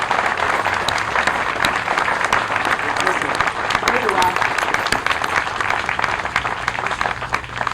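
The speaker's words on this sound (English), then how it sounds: "please give him a great round of applause" A crowd at a Memorial Day parade in Attleboro breaks into sustained applause, dense clapping from many hands filling the scene evenly throughout.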